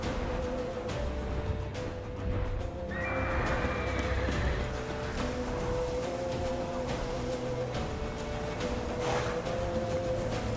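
The horse Roach in The Witcher 3 gives a rising whinny over a steady rumble of hooves and ambient game sound, moderately loud and close, with no talking.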